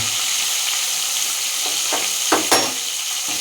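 Fish frying in a pan, a loud constant sizzle up close, broken by a couple of quick spatula knocks and scrapes toward the end.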